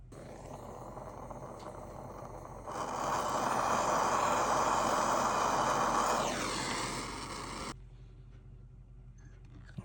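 A propane torch roars steadily while heating metal for soldering, a broad rushing hiss that swells louder midway, then drops away sharply as the flame is cut, leaving quiet background noise.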